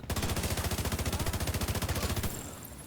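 An MG5 machine gun in The Division 2 fires a sustained automatic burst of rapid, evenly spaced shots, loud and dense for over two seconds. Then it stops abruptly.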